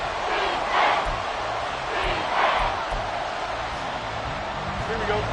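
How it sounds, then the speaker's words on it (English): At an American football game at Arrowhead Stadium, the packed crowd roars loudly and continuously, swelling in waves. A commentator talks over the noise throughout. "The Arrowhead crowd in full roar."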